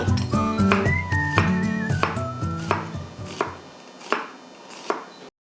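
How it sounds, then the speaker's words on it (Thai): A knife cuts green onions into lengths on a cutting board, giving a quick run of crisp, close chops that slows to a few spaced, sharp taps before stopping. "ต้นหอม อันนี้เดี๋ยวเราหั่นท่อนไว้"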